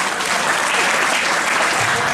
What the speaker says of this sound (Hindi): दूसरे ताली बजा के बताओ जरा।